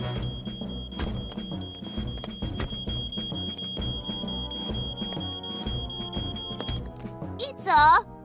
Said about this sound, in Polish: Dobrze wiesz, że z tym alarmem jest wszystko w porządku, Norman.